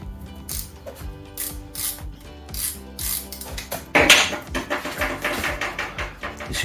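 A ratchet turns out the drain and filler plugs on a classic Vespa gearbox, giving rapid repeated clicking pawl bursts in a steady rhythm, close and clear, with a brief metallic clatter partway through and no talk.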